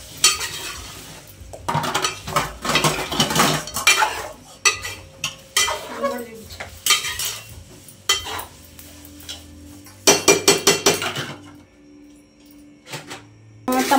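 A spoon works through a pot of food seasoned with nutmeg powder, giving repeated scraping and clinking strokes in irregular bursts, close and fairly loud, with a short run of quick metallic taps near the end and no talk.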